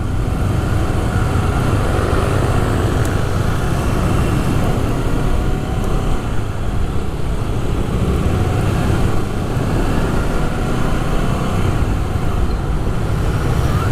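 A Honda CBR 250RR motorcycle rides through congested traffic, with a dense, continuous roar of engine and road noise, loud and unbroken throughout.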